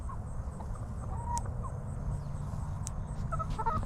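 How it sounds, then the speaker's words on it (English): Chickens in a chicken coop give faint, scattered clucks and short calls over a steady low rumble of background noise, a few soft sounds spaced across a few seconds with no talking. "There's 2 chickens in here."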